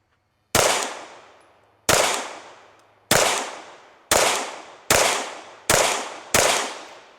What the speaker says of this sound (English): We're just gonna give it a test run, 10 yards, shoot a little